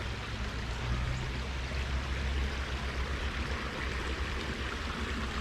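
An urban creek flowing steadily downstream, a continuous broadband wash of moving water with a low rumble, fairly close and unbroken throughout, with no voices.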